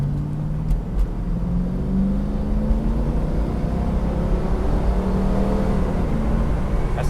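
1992 Ford Mustang accelerating to 60 mph after a U-turn, heard from inside the car: a steady engine drone with rising pitch through smooth gear changes, under constant road and wind noise, no talking.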